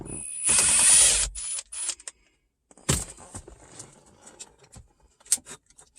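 A ratchet works the hex screws holding a car radio in a dash during a double-DIN radio install: a close burst of quick metallic clicks and rattles, then scattered lighter taps and clinks in a quiet space.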